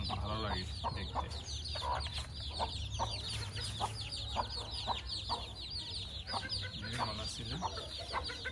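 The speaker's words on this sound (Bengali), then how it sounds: "আমার আসলে গলাচিলা মুরগি অনেক ভালো লাগে দেখতে।" Naked neck chickens mixed with desi hens and chicks on a rooftop flock cluck repeatedly in short, close bursts over a steady background hum, with occasional faint crowing-like calls.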